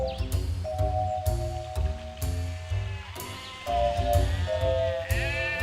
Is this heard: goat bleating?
yes